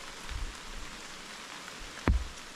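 Rain falls outdoors in a soft, steady patter. Near the end, one sharper, louder knock of a drop stands out against the hiss.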